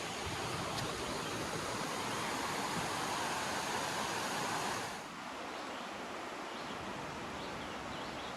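Toxaway River flowing beside a trail campsite, a broad steady rush of water that drops slightly in level partway through, with no voices.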